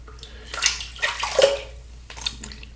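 Running water splashes over a soapy bristle shaving brush, a close, bubbly rinsing sound in short uneven bursts.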